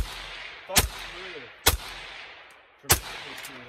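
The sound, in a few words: gunshots from a Faxon 11.5 inch rifle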